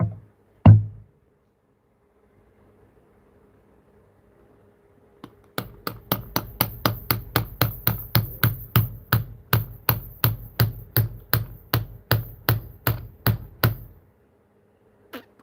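Rapid series of sharp taps on a window lock during lockpicking, about thirty crisp strikes in a steady rhythm, close and clear, preceded by a single louder knock.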